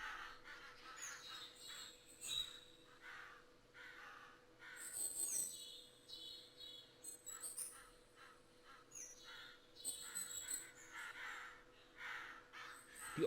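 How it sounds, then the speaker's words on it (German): Crows caw repeatedly in short harsh calls across a forest hunting scene in theHunter Classic, several birds overlapping near and far over a steady low ambient hum, with no talking. "Die ollen Krähen machen wieder Krach."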